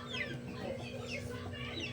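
Chickens cluck repeatedly at close range while being fed, a busy overlapping flock sound with a steady background hum.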